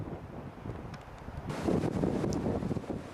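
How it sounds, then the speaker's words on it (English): Wind gusting through downtown Jomsom, Nepal, a soft rushing buffet against the microphone that swells louder halfway through, with no talking. "little windy in downtown Jomsom."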